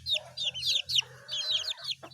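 Chickens on a small backyard farm cluck in quick, close bursts of short repeated calls, alone with no talk.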